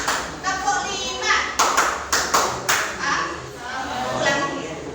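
A group of children clapping in counted patterns during a teaching session, short bursts of single and grouped claps in rhythm, while an adult voice calls out counts over the clapping.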